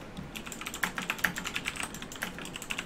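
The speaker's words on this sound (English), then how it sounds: "Sorry about the keyboard. I'm really working on that." Quick, fairly quiet clatter of typing on a computer keyboard during a Roblox game session, with steady irregular keystrokes and a few sharper taps standing out.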